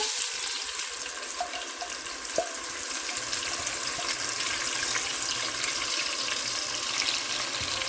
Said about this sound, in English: I'm going to add that in, and I'm going to saute this on about medium